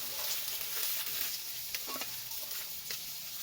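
Eggplant frying in oil in a pan, a soft continuous sizzle broken by several quick spatula scrapes and stirs, close up and without speech.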